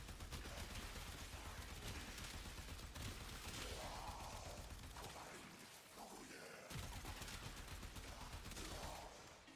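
Exalted weapon in Warframe firing nonstop: a dense, loud stream of rapid shots and impact crackles over game noise, sustained for several seconds with a brief dip partway through.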